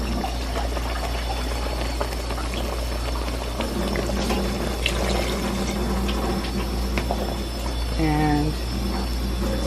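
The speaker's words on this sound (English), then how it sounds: "You add some water to it." Water is poured into a pot of cooking flour and chicken for a stewed chicken dish, a running, splashing gush over a low stove hum, with brief clatters and a short burst of voice near the end.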